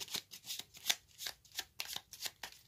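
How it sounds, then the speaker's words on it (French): Tarot cards shuffled by hand in a rhythmic series of crisp papery riffles, about eight evenly spaced strokes, close and quiet with no speech. "Je vais d'abord tirer un arcane majeur."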